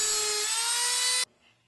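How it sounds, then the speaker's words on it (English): A steady high-pitched whine of a Dremel rotary sanding tool shaping an oak mast-step, running evenly for over a second before abruptly stopping. "I shaped the mast-step using the Dremel sanding tool."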